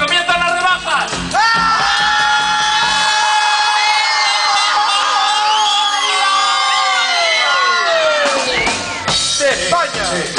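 Crowd at a Spanish orchestra show shouting and cheering loudly in sustained, overlapping yells, rising together then breaking off near the end.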